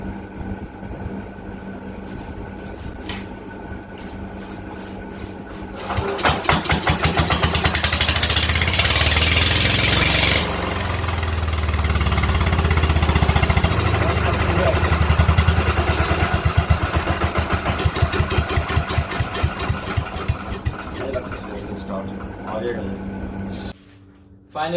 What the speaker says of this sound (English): Finally guys, we got the engine running and the gearbox spinning.